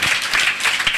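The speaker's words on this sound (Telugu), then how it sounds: "చప్పట్లు కొట్టండి అందరూ." A church congregation clapping hands together during a sermon, a dense steady patter of many hands filling the whole second at moderate loudness, with no speech over it.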